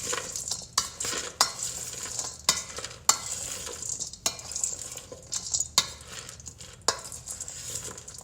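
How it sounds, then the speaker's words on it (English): Chicken salad ingredients with grapes tossed in a bowl with a spoon, repeated close scrapes and clinks of the spoon against the bowl in an uneven rhythm, with soft rustling of the mixed pieces between strokes. "Let me get a spoon. And just toss them around a little bit."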